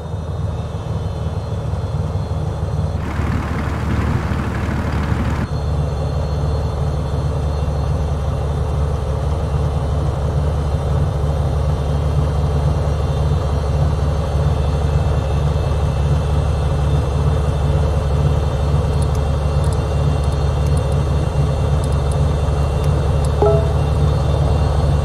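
A Beechcraft aircraft engine running up during takeoff in Microsoft Flight Simulator 2020, a steady loud droning hum that holds for the whole stretch, with a brief burst of hiss early on.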